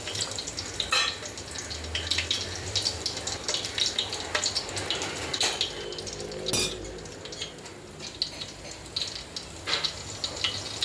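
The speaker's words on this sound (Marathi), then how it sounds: "खडे मसाले छान तेलात तळलेले आहेत" Whole spices frying in hot oil for a chicken dum biryani gravy: a soft sizzle under scattered clinks and scrapes of a metal spoon against the pot, close by and without speech.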